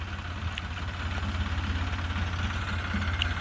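A tractor engine idles close by with a steady, low, throbbing chug that holds at an even level throughout and never revs.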